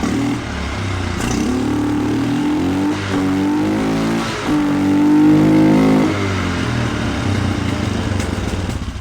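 A 1997 Polaris Sportsman 500 ATV fitted with a new carburetor runs steadily close by, its engine note rising and falling through several revs with no talking.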